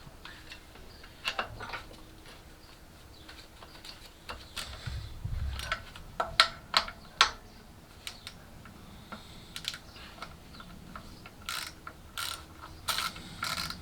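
Ratchet clicks while bolts are tightened on a BMW 330i engine, coming in short irregular bursts of close, crisp ratcheting amid light workshop clatter, with no talking.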